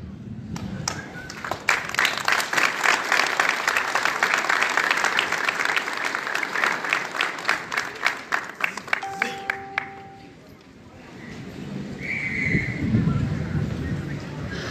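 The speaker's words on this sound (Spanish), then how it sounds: "que les mando un fuerte aplauso" Audience at a public works meeting in Teopisca, Chiapas, giving strong applause, many hands clapping loudly for about ten seconds before it dies away, followed by murmuring and voices.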